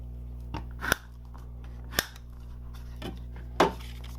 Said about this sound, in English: Go ahead and fold and burnish along those score lines on the tab piece.